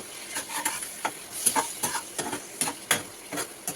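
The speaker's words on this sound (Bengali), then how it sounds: "একটু ভালো করে নাড়িয়ে দিই" Spice paste for rohu fish curry fries in a pan under a light sizzle, while a spoon stirs it in quick, irregular scraping strokes, close and fairly quiet.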